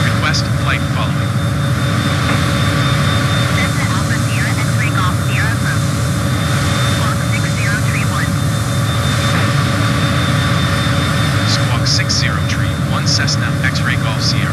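Steady drone of a Cessna aircraft engine in Microsoft Flight Simulator, heard constantly throughout. Radio chatter sits over the engine noise.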